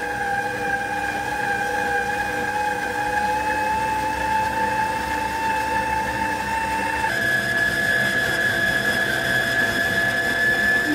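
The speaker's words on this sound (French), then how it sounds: "mettez votre batteur sur 3 et laissez votre pâte se décoller du bord" A stand mixer on speed 3 kneads buttery brioche dough with a steady, loud mechanical whine and hum that holds throughout, its pitch shifting slightly partway through, with no voices.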